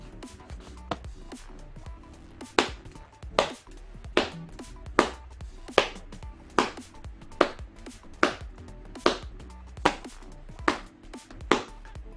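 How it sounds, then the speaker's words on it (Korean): Baseball caught repeatedly in a broken-in Wilson A2000 1787 infielder glove with soft leather and laces, about a dozen sharp leather pops at a steady rhythm, close and clear. "공 한번 받아보겠습니다"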